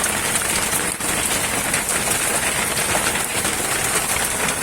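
Steady rain pours and drips onto a motorized becak, a loud, continuous hiss of water with no break or talk.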